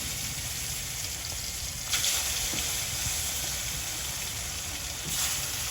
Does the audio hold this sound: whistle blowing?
no